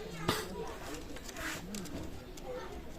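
Pakistani pigeons in a loft coo softly in short low calls, with a voice talking over them throughout and a brief knock near the start.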